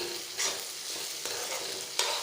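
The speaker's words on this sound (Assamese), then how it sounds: "এয়া ভাজি লৈছোঁ" Red meat masala with a little cumin powder frying and being stirred in a pan, a steady close sizzle broken by scraping stirs.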